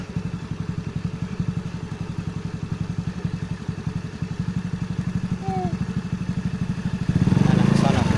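A motorcycle engine runs steadily near the mic while a small child rides, a continuous throbbing mid-pitched putter with rhythmic pulses, briefly revving louder near the end, with an adult talking over it.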